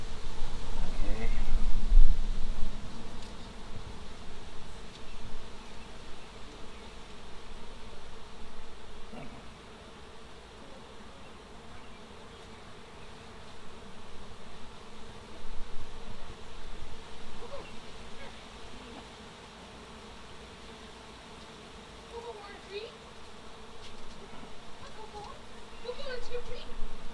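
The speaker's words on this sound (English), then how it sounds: "It's amazing to hear all of their wings all of a sudden start going." A honey bee colony fills the hive with a steady droning hum of beating wings, swelling and easing in loudness, close and continuous, with people speaking quietly over it now and then.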